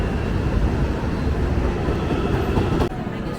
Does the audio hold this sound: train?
yes